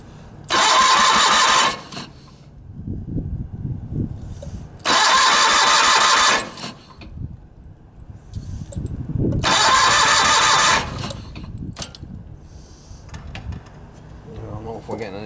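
An old John Deere 318 lawn tractor engine cranks over in three loud starter bursts, each about a second and a half, with sputtering, low engine rumble and mechanical clatter between them, close up.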